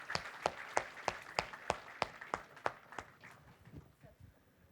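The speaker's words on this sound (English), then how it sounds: "Clap for all of you who turned up here." Business students at a management conference give a round of applause: a dozen slow, evenly spaced sharp claps that ring out loud and clear, then soften and fade toward the end.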